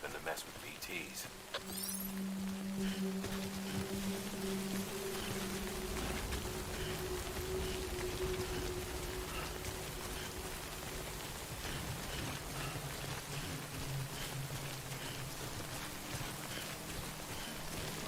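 Steady rain falls through the Death Stranding game world, a dense continuous hiss with low tonal hum beneath, while a voice talks over it throughout.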